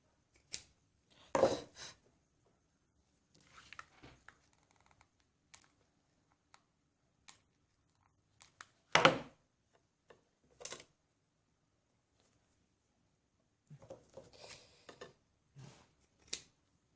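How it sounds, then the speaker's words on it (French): Scissors snip across craft material for a sewing box, a few crisp cuts spaced out over a quiet room, with scattered small handling clicks between them. "Donc là, je vais couper. Je vais assez couper en travers."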